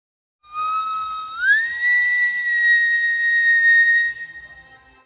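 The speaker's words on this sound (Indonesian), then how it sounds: "mendengar siulan yang berasal dari balai desa dan itu adalah siulan dari para warga dari dusun tersebut" Villagers whistling at night: a single clear, sustained whistle that rises in pitch after a second, then holds steady for several seconds before fading, loud and alone against silence.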